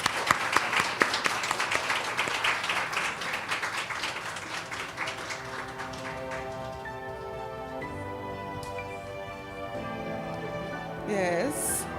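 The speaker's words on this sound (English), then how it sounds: "give them a big round of applause." Audience applause for graduates of a library and information studies department at a celebration ceremony, a dense burst of clapping in the first seconds that thins into scattered claps under room murmur and tonal background sound.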